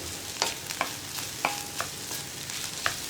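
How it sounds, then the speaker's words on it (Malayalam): Scrambled egg thoran frying in a pan is stirred with a spatula, giving a soft background sizzle broken by several sharp scrapes and clinks against the pan, close and fairly quiet, no voices. "ഇതൊന്ന് ഡ്രൈ ആയി വരുന്നത് വരെ നമ്മളൊന്ന് ഇളക്കി കൊടുക്കുക"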